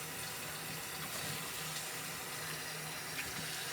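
Tap water runs steadily into a kitchen sink while raw chicken is rinsed, a soft, even hiss with no breaks, quiet and fairly close.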